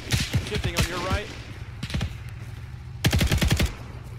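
Rifle and machine gun fire from a WWII paratrooper co-op mission in Arma 3, short rattling bursts of shots, a few near the start and a denser volley near the end, with voices talking between them.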